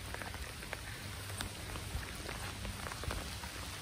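Steady rain patters on surfaces nearby, a dense hiss with scattered drips and taps, continuous and even throughout.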